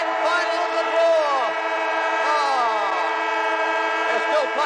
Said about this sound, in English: They're still playing on, but there's the siren. I can hear it.